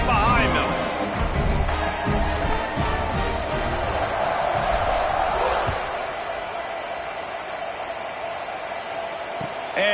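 Football stadium crowd cheers loudly before a kickoff, a dense roar mixed with thumps and bangs, while a commentator speaks over it; the noise eases somewhat in the second half.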